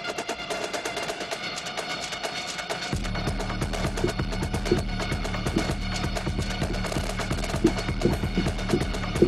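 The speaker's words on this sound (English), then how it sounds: "it's like a stutter effect on these snares" Marching snare drums with a stuttering effect chatter in rapid, choppy bursts inside a dense electronic score layered with keyboard notes; a deep low layer enters about three seconds in and the texture stays loud throughout.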